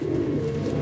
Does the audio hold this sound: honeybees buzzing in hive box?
no